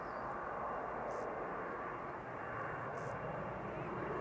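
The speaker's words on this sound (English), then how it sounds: "This is KLM flight 955 to Newcastle on Embraer 190." A KLM Embraer 190 jet roars at Amsterdam Schiphol, a broad, steady, fairly distant engine rush that holds constant for a few seconds.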